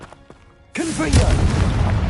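The Confringo spell in Hogwarts Legacy lands as a loud, close boom with a sharp onset and then a rumbling, crackling tail that lingers. A few faint taps come first.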